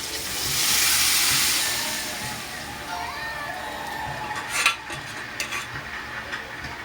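Beef broth simmering in a cooking pot gives a steady hiss that swells early and then settles, with a few clinks and light bumps near the end.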